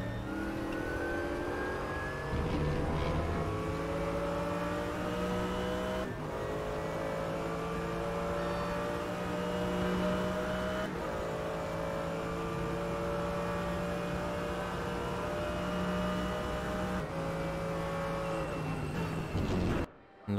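Race car engines in the RaceRoom racing video game at Road America drone and rev steadily, with pitch sweeping up through gear changes and cars running side by side on the straight, fairly loud and continuous, with no talk over them.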